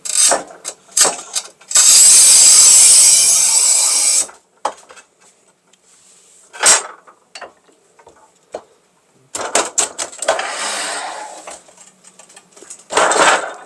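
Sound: Shijing 3025 tile cutter cutting 10 mm black porcelain tile

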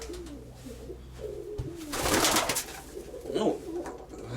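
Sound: pigeons, Zaporizhzhia breed flyers

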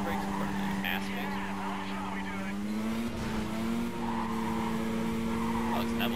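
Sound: car braking and skidding in Need for Speed: Carbon video game

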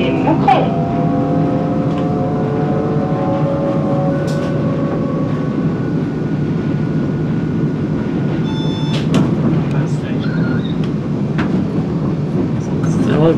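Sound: train departing from French station towards Kortrijk

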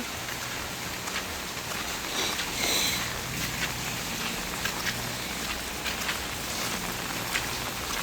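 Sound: heavy rain and flooding in Jaffna

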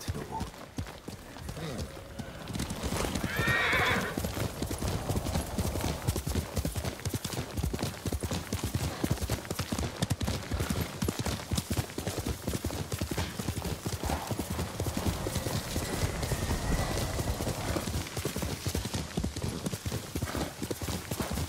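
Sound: horse galloping and neighing in video game Ghost of Tsushima

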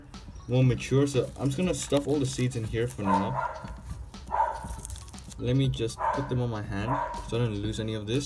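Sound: dog barking

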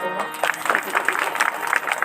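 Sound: audience applause at kirtan

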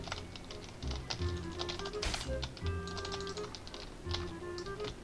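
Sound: computer keyboard typing

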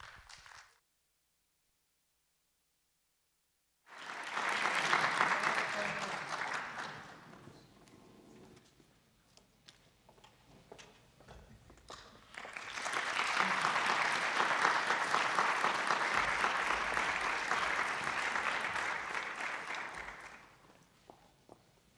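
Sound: audience applause welcoming percussion ensemble musicians

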